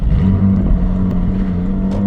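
A Porsche 718 GTS 4.0 with its engine mounted mid-chassis drives along, giving a loud, steady, close engine drone with a constant low hum and no talking.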